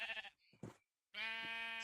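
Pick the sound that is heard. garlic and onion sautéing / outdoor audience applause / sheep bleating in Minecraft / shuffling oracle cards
sheep bleating in Minecraft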